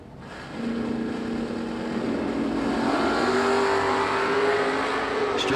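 A first-generation Camaro drag racing down the strip, its engine roaring loud and sustained with rising pitch as it accelerates hard, steady and close throughout.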